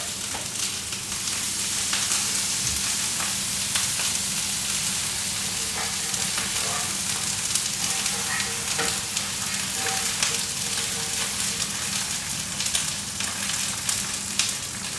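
Cabbage frying in a pan with just a touch of oil, a close, steady crackling sizzle running throughout with small scattered pops and occasional stirring.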